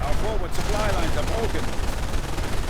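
MG42 machine gun fire in a World War II strategy game, a dense continuous rattle of bursts under steady background battle noise, with a voice talking over it.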